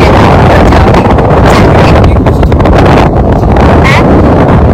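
Strong wind roaring and buffeting the microphone at a seaside beach, blowing sand about, loud and unbroken throughout, with faint voices barely audible.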